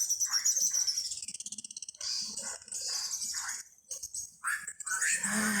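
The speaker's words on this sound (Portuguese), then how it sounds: "E esse pássaro que tá cantando, não sei se deu para aparecer. Ele é preto, tudo preto." An all-black bird sings outdoors among many other birds, its bright, high chirps and trills repeating in quick bursts across the clip, fairly close and clear.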